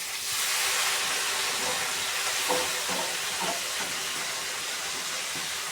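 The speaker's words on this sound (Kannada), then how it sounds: "ಈಗ ಅದಕ್ಕೆ ನಾನು ತೊಳೆದಿರ್ತಕ್ಕಂತಹ ಮೆಂತ್ಯ ಸೊಪ್ಪನ್ನು ನಾನು ಹಾಕ್ತಾ ಇದ್ದೀನಿ" Freshly washed fenugreek leaves hit a hot pan already tempered with curry leaves and mustard seeds, giving a steady loud hiss and sizzle with a few brief stirring scrapes.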